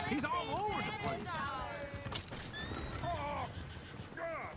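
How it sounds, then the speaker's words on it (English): Horses in the Red Dead Redemption 2 video game whinny loudly several times over steady clip-clopping hooves, with game dialogue and voices talking throughout. "Horses!"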